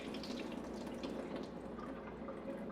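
Water from a tray of coffee-dyed paper dumped into a sink: a brief, continuous splashing pour with a faint trickle, close and fairly quiet.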